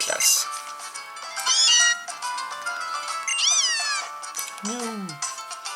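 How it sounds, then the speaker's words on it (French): Cat meows from a Pokémon Moon game, a series of rising and falling synthetic yowls. The last one is a lower, drawn-out cry, and bright game tones sound between them. "C'est un chat quoi."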